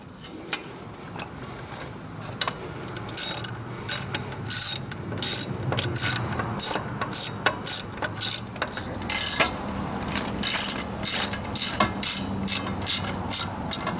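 A ratchet clicks in repeated quick bursts while tightening the muffler bolts on a Chinese scooter, close and crisp, with short pauses between strokes.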